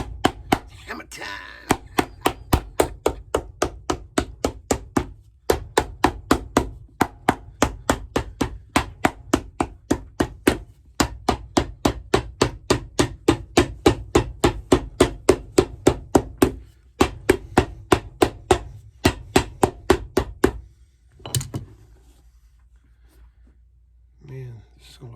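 Rapid, steady hammer blows strike a boot nearby, dozens of sharp knocks in quick bursts with brief pauses, ending in a few scattered taps.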